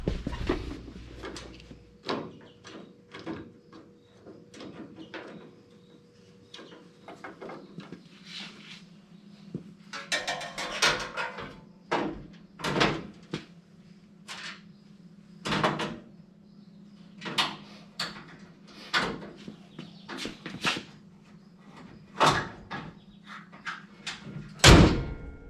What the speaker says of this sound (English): I like the way that door closes, Harmon.